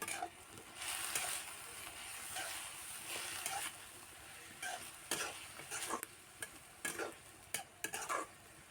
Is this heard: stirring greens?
yes